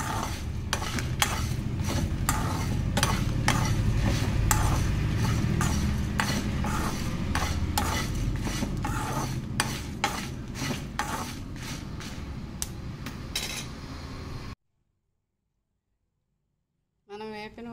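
Flax seeds and spices are dry-roasted in a pan, with a spoon scraping and stirring in quick, repeated strokes over a soft crackle. The scraping runs continuously for about fourteen seconds, then stops and falls silent.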